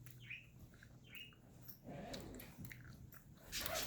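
A Quaker parrot bites and tugs at a metal lip piercing, with close, quiet crunchy nibbling mixed with small squeaky chirps from the bird.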